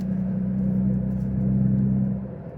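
Ford Bronco Raptor engine under acceleration onto a freeway, a steady low cabin drone and rumble that swells slightly then eases off near the end, heard from inside with no talking.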